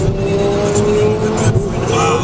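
Fast cars roar past loudly and close, engine tones rising and sweeping with a brief tire squeal, while a voice talks over the noise.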